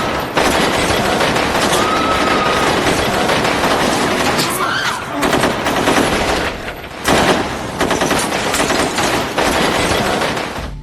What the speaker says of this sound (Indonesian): menembaki seisi lobi hotel.